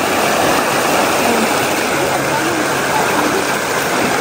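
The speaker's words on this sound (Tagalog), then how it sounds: "dadaan tayo sa sapa-sapa, ang lawak ng sapa" A wide stream beside a rural path rushes with a loud, steady, unbroken wash of water noise close by.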